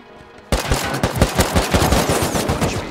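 Rapid automatic AK rifle fire in the Rust video game, loud bursts of close shots with a sharp onset and steady, dense rhythm through the rest of the clip.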